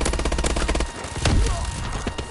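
Gunfire in a PS4 shooter game, a rapid burst of shots for about a second followed by a few heavier thuds and scattered pops against a busy, mixed game background.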